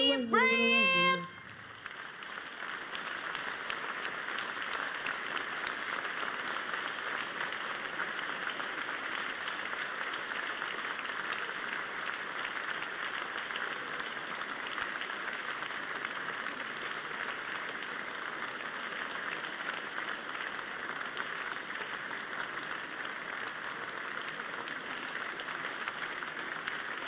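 Applause from a live talk-show studio audience, a long steady wash of clapping that follows a brief burst of music at the start and holds at an even level to the end.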